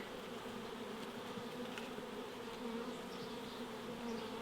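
Steady, dense buzzing of many honey bees close by at opened beehive nucleus boxes, a continuous low drone with no voices.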